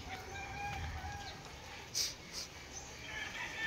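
A few chicken clucks and short squawks come from nearby over a faint steady background hum, one louder call standing out midway.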